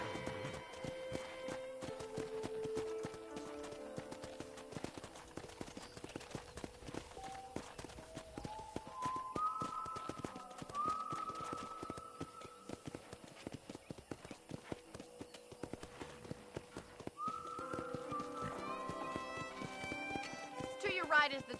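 Horse hooves clip-clop at a steady walking pace in Red Dead Redemption, alongside game music, with some talking mixed in.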